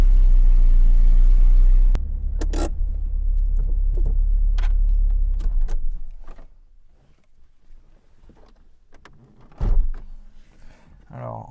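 A 1986 Peugeot 205 GTI with a 1.6 litre engine fires up quickly. A loud, deep engine rumble runs for a few seconds, with a few sharp clicks, then drops to a quieter, uneven idle.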